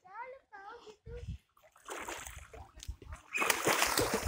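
Water splashes and sloshes in bursts as people wade through a muddy fish pond being drained, with children's voices and chatter breaking in between the splashes.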